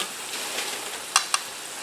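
French fries, a batch stuck together, sizzle and crackle steadily in hot oil near the end of cooking; a broad even hiss runs throughout, broken by two sharp pops.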